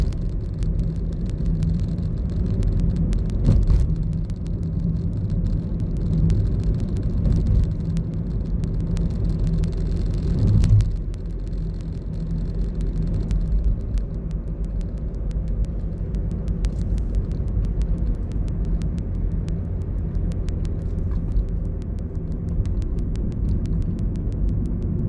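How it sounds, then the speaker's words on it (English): A car drives across the Sydney Harbour Bridge on nearly empty roads, its steady low road rumble and engine whir continuous throughout, with a brief louder swell partway through. "We're driving across the bridge"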